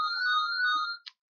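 A phone ringtone sounds as a steady electronic tone for about a second, then cuts off with a short final blip, alone and fairly clear.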